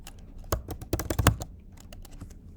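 Fingers typing a file name on a computer keyboard, a loud burst of rapid clacking keystrokes in the middle, then lighter scattered taps, close and with no voices.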